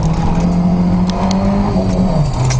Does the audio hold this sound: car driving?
yes